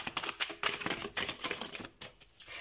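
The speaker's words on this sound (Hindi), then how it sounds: "सबसे पहले हम कार्ड शफल कर लेते हैं।" Tarot cards are shuffled in a rapid, close series of dry flicking clicks and soft paper rustles, fairly quiet and steady with a brief pause near the end.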